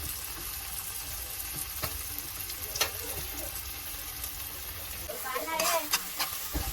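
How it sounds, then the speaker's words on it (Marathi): Tomatoes tipped into a pan of frying garlic, green chilli and onion for a Koli-style dish give a steady close sizzle, with a few soft stirring knocks and a brief louder hiss near the end. "आता त्यांना आपण आता टमाटे टाकायचे आहेत ना"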